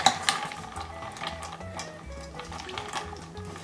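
A spoon stirs a mixture for roasted garlic bread in a bowl set over ice, making irregular scraping and clinking against the bowl, with a few sharper knocks near the start.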